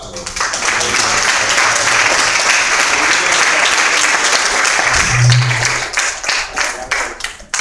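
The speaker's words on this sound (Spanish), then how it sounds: "Vamos a darle un fuerte aplauso." A church congregation gives a loud, sustained round of applause for the pastor, dense clapping filling the room for about seven seconds before thinning out, with some voices mixed in.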